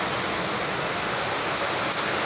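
Steady rain falls heavily and evenly, a dense unbroken hiss with no pauses or voices.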